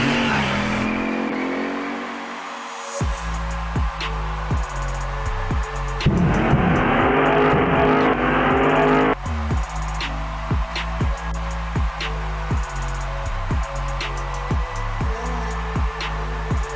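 Race car engines revving and accelerating in a Nitrotype typing race game, loud continuous synthetic engine roar with repeated gear-shift steps and pitch climbs, one surging whoosh midway.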